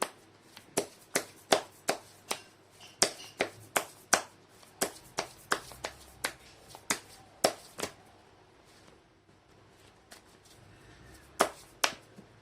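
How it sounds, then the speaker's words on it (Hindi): Tarot cards are shuffled by hand, giving a rapid series of sharp, close slapping snaps in an irregular rhythm, then a quiet pause before a few final taps. "कर लेती हूँ कार्ड की शफलिंग।"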